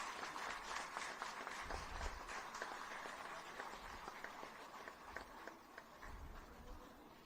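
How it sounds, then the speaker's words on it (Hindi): Applause from a ceremony audience greeting guests at a golden jubilee function of Central Electronics Limited in Ghaziabad, a steady wash of clapping that stays fairly quiet and even throughout, with faint low thumps underneath. "एक बार फिर पूरे उत्साह और आदर के साथ जोरदार तालियों द्वारा हमारे अतिथियों का अभिनंदन करें"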